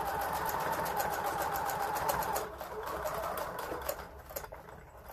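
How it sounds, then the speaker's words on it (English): A sewing machine back stitching along the edge of a pillow made from an old coat, a steady rapid needle chatter that eases slightly partway through, close and quiet. "Do a little back stitching right there."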